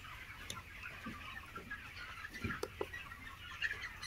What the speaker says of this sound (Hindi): किसान भाई हमने एक मुर्गी को पकड़ा है, अभी इस पर बैठा दिया है